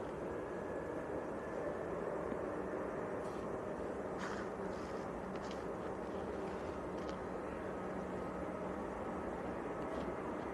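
Ryanair Boeing 737-800 airliner at an airport in freezing weather, a steady distant jet engine roar that holds level throughout with faint intermittent clicks on top.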